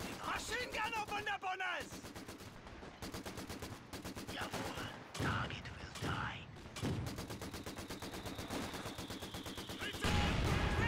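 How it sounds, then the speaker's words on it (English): In Company of Heroes 2, on the Lienne Forest map, a rifle grenade is launched amid steady, dense gunfire with bursts of rapid shots and sharp reports, while a voice talks over the battle. "I'm gonna launch a rifle grenade against the enemy rifles."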